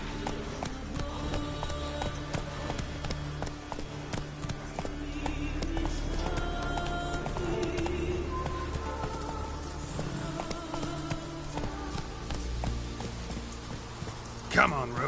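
Hooves of Roach, a horse in a PS4 video game, pound in a fast, steady galloping clip-clop under ongoing game sounds, with voices talking over them.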